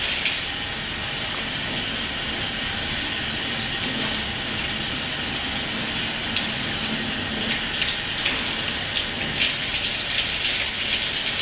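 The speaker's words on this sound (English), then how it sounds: "Rinse all the soap to prevent chemical burns." A tap runs steadily as soap is rinsed off the arms below the elbow during a surgical hand scrub, a loud, close, unbroken gush of water splashing with small irregular spatters.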